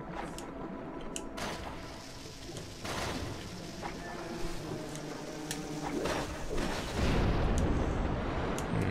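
A bomb goes off in Zelda: Twilight Princess amid a busy layer of in-game effects and music, with a heavier broadband burst near the end.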